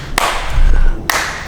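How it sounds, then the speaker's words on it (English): A pair of sharp hand claps, roughly a second apart, ring out close by in an outdoor setting before a hill sprint, with low rumbling background noise between them. "A clap as well"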